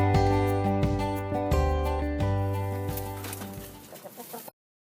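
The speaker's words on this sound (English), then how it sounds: "So Lizzie here is one of the very first barred rocks that we hatched" A barred rock hen clucks close to the microphone in a short series of throaty, rhythmic calls that trail off before the sound cuts out.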